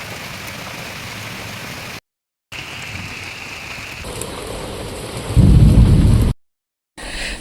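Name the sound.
rain and thunder during rainy weather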